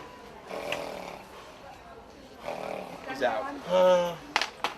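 Harsh, rasping snores from a man lying prone on the ground after being knocked out, with several irregular breaths that grow louder toward the end, close, amid faint background noise.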